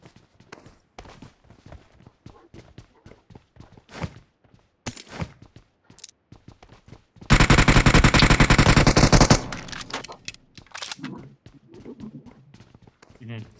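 Rapid automatic gunfire in a multiplayer battle royale video game, a loud sustained burst of about two seconds amid sparse game clicks and footsteps, with players talking over the action.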